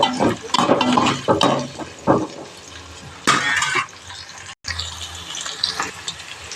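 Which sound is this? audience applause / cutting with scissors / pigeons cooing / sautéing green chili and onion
sautéing green chili and onion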